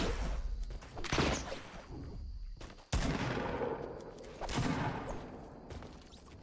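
Gunfire in Fortnite Battle Royale, bursts of rapid shots and sharp cracks that come and go, with a loud blast near the middle and a few quieter pops between.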